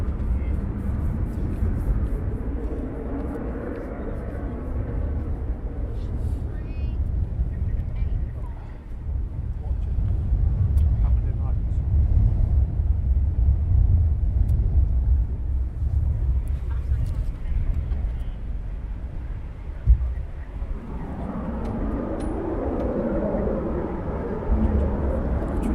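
An RAF squadron aircraft departing at RAF Coningsby, a steady jet roar from a distance that swells and rumbles for over twenty seconds, with a brief knock near the end.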